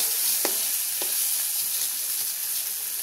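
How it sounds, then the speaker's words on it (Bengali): Ridge gourd (jhinge) frying in oil, a steady bright close sizzle with a few soft stirring taps at regular intervals, no talking. "আমার ঝিঙে ভাজা হয়ে গেছে, এবার নামিয়ে নেব।"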